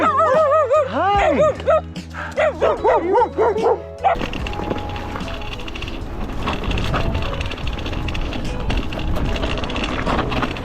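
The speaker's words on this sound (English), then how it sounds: "Hello, doggies." Dogs bark and yip in quick bursts close by, several yelps with whiny tones, then give way after a few seconds to rough broadband rumbling noise from a mountain bike ride.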